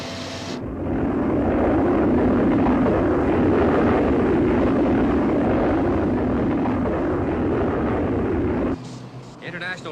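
Thunderbird 1 rescue aircraft engine roaring steadily in horizontal flight, a loud sustained jet-like rumble that starts abruptly and cuts off near the end.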